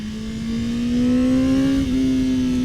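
A 2021 Honda CBR1000RR-R SP sportbike engine in sport mode rises steadily under throttle, a loud, close, continuous rev with a steady climbing pitch and a brief dip near the end, with no voices.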